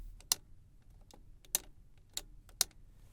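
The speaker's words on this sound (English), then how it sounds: "On the steering column, you have your standard wipers and turn signal stalks, which give some very satisfying clicks." Wiper and turn signal stalks on the steering column of a Lamborghini Countach supercar clicking, four crisp, close, distinct snaps spaced about a second apart over a quiet background.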